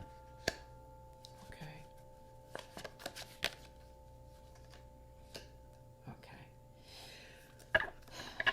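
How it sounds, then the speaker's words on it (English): Tarot cards shuffled and handled up close in a quiet room, with sharp riffling flutters and scattered card snaps and taps separated by pauses. "let's pull out some cards"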